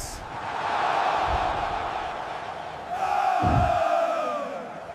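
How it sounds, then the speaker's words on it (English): An AI-generated stadium crowd roars after a football goal, a broad sustained cheer that swells twice in loud, reverberant waves with no distinct voices standing out. "The crowd should roar in the background, and players celebrate"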